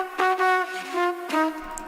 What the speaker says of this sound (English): this one is the original trumpet I took from the Kashmir sample pack